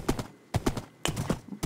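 A horse in Minecraft clip-clops with quick hoof steps in three short bursts, close and fairly crisp.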